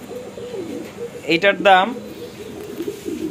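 Sirazi pigeons coo softly in a low, repeated murmur that runs through the whole moment, while someone speaks briefly over them close by.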